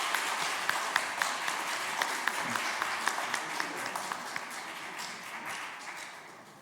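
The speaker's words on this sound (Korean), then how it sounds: "박수하겠습니다." A church congregation at an ordination service claps together in a loud, even patter of applause that slowly fades toward the end.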